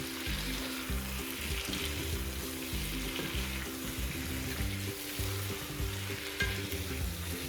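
Tomatoes and green chillies frying in masala for a karela gosht (bitter gourd and meat) curry, a steady close sizzle with broadband crackle throughout and no talking.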